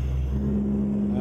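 A heavy truck engine in American Truck Simulator, hauling a heavy load on a rollback, drones at a steady low pitch with a continuous rumble and no breaks.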